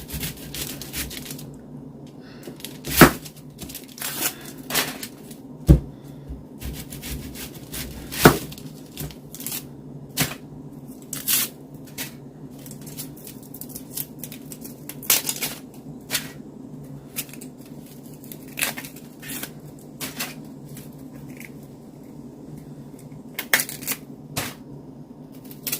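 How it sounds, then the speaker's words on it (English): A knife slicing a peeled onion on a cutting board in a home kitchen, giving crisp, irregular taps and chops at a moderate pace over a low, steady background hum. "so I'm going to go ahead and slice the onion"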